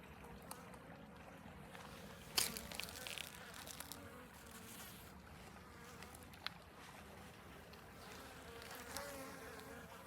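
Honeybees buzz steadily around an outdoor hive on a cold February day, a soft continuous drone with scattered nearby wingbeats and a brief louder buzz passing close, no talking.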